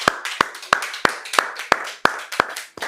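A worship congregation claps together in a steady rhythm, about nine sharp, loud claps spaced evenly a third of a second apart, with no other sound between them.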